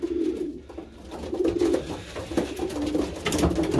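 Homing pigeon hen, a breeding bird that returned first from a 120-mile release, gives repeated low, throaty coos close by, steady soft rumbles continuing throughout with no voices.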